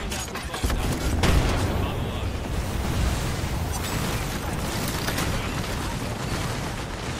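Bangalore's ultimate artillery strike in the Apex Legends video game, a sustained rumbling barrage of overlapping booms and blasts that roll on steadily at moderate distance, with faint voices in the background.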